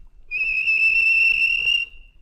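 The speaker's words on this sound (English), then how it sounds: "the whistle blew, and James thought they'd better go." A train whistle gives one steady, clear, loud tonal blast of about a second and a half that stops cleanly, with no talking.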